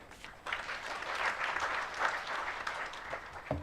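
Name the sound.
applause after auditor's report at meeting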